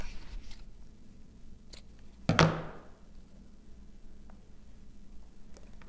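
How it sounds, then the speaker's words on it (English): One sharp snip of scissors cutting off excess ribbon after a knot is tied on a Christmas gift tag, a single crisp cut in an otherwise quiet room. "I'm just gonna cut off that excess"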